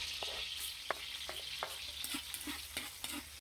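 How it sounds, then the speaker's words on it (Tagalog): Garlic sautéing in a pan for igado, a steady crackling sizzle with a run of rhythmic spatula scrapes and taps across the pan, close by and free of speech. "Okay mga bossing, gigisa na natin yung igado."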